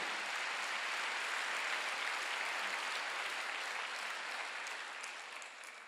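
A church congregation applauds steadily during a Sunday worship service, a dense wash of clapping that carries on throughout and fades slightly toward the end.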